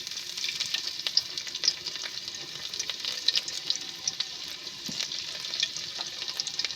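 Garlic fries in hot oil with a bright, continuous crackling sizzle and a few faint clicks of stirring, close and steady throughout, with no voice heard.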